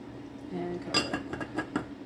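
A lid goes onto a pot of grits on the stove, giving a few close metallic clinks and a rattle as it settles.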